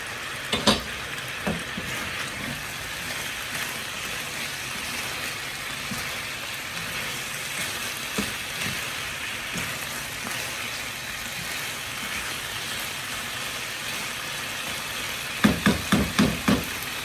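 Beef for Filipino caldereta stir-fries in a pan with a steady, low sizzle, broken by occasional utensil knocks and a quick cluster of clanks near the end.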